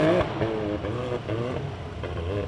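A Can-Am UTV in a 4900-class off-road race accelerates off the start line, its engine droning steadily at a distance beneath a race announcer's continuous commentary.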